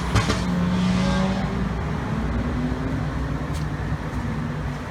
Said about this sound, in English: Cars are ridiculous on the street.